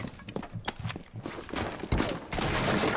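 Gunfire in the video game Rainbow Six Siege: a rapid, close burst of shots followed by dense, sustained firing and clatter, loud and without talk.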